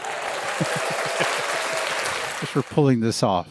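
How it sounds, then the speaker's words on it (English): A round of applause from a small group of podcast hosts in a studio, steady clapping for about two and a half seconds before voices break in with cheerful talk and laughter. "I'm gonna give ourselves a round of applause."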